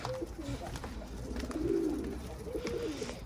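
Pigeons coo in low, soft, rolling calls, several in a row, fairly faint against quiet background noise.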